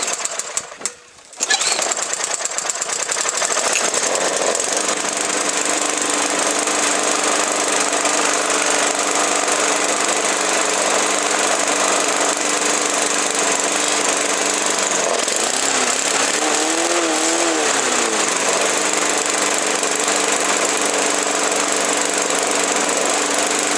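A Honda clone lawn mower engine with a carburetor problem runs on and on after a brief start, a loud steady droning roar close by that wavers and surges unevenly partway through.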